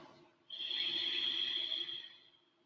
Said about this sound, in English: Let that audible ujjayi breath flow throughout class.